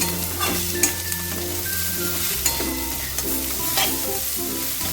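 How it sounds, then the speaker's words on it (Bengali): Pumpkin chhechki with coriander leaves being stirred in a frying pan, a steady sizzle underneath repeated scraping strokes of a spoon against the pan, close and alone. "একটুখানি ধনে পাতা দিয়ে আবারও সব কিছু ভালো করে মিশিয়ে দেবো"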